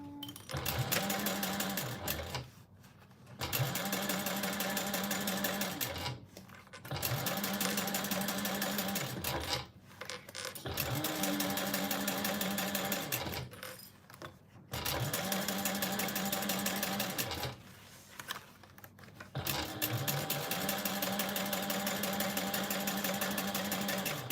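A sewing machine stitches a Rosie baby sling in long steady runs, loud and close, each burst of whirring lasting several seconds before short pauses, repeating about six times.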